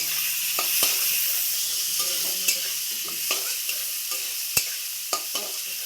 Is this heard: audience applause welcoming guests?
no